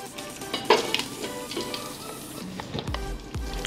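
Whole spices fry in oil in a pot for chicken biryani, a steady sizzle with a few spoon clinks and scrapes against the metal pot, plus a couple of low knocks near the end.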